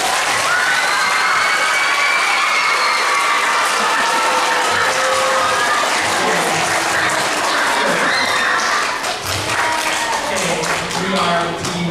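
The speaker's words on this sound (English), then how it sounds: "Let's give her a round of applause" An elementary school audience at a trimester awards ceremony breaks into applause mixed with cheers and children shouting, a loud sustained crowd roar in a hall with voices calling out over the clapping.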